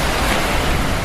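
Surf at Songdo beach in Pohang, South Korea, washing in as a steady broadband roar, close and loud with wind buffeting the microphone and no voices.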